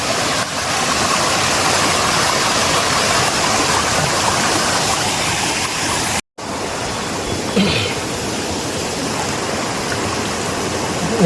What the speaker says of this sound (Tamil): இதுதாங்க அந்த ஃபால்ஸு